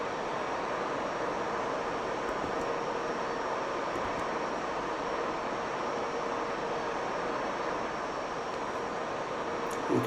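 Steady broadband roar of a jet engine in the X-Plane 12 flight simulator, a constant drone with no change in pitch, heard alone throughout.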